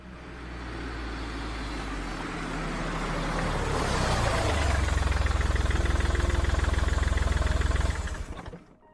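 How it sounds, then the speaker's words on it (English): An engine grows louder as a vehicle approaches, settles into a close, steady idling rumble, then cuts off abruptly. "Suddenly, I heard a car pull up."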